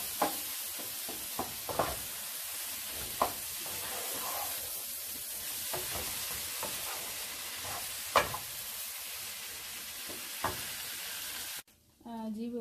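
Boiled potatoes are mixed into fried masala in a hot pan for a sandwich filling, making a continuous loud sizzle with occasional spoon scrapes and knocks, cutting out briefly near the end.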